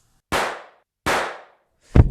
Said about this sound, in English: 2 shots to the head